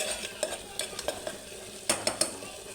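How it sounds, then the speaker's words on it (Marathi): A spoon scrapes and clanks against a pan as masala paste fries in oil for Marathi cowpea bhaji, several sharp metallic taps over a soft sizzle, close and fairly quiet. "व्यवस्थित आपण हे फ्राय केलं आहे चांगला मसाला बघा तेल सुटलेले आहे"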